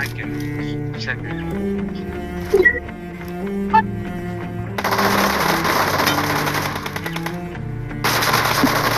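Rapid automatic gunfire bursts in a team shooter video game, heard twice in dense volleys over a steady synth music bed, with an announcer's voice calling out between them.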